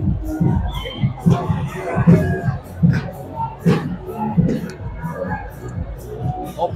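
Football supporters crowd a stadium for a Roraima state championship final between São Raimundo and Real, with a dense rumble of massed voices and intermittent shouts under a steady murmur.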